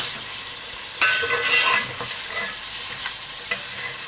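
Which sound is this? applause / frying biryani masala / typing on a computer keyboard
frying biryani masala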